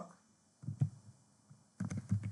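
Faint clicks of typing on a computer keyboard come in two short bursts of keystrokes, quiet and close, with a pause between them.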